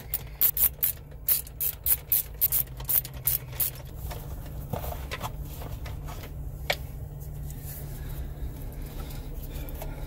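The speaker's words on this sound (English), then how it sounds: "So, go ahead and tighten this up." Screw being tightened during installation of a Joying double-din Android head unit in a Jeep Wrangler, a quick run of close ratcheting clicks at the start giving way to a low steady hum.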